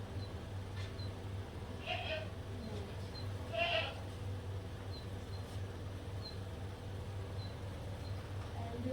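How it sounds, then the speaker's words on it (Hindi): A goat kept next door bleats faintly in the distance a few times over a constant low hum. "ये पड़ोस में बकरी रहती है, बहुत शोर करती है"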